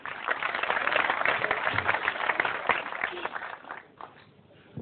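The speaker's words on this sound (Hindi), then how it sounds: "भरपूर तालियां होनी चाहिए" Audience applause follows a call to clap for a guest on a Hindi-Urdu stage show, a dense, steady wash of clapping that fills the clip and thins out near the end, with some crowd noise mixed in.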